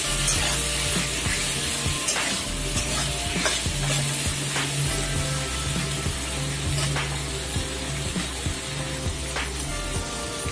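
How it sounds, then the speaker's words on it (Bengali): Potatoes fry with onion, salt and turmeric in a pan, a steady, dense sizzle with intermittent scraping stirs and light clatter close by, no talking. "পেঁয়াজের সাথে আলুটাকে ভালো করে ভেজে নিচ্ছি।"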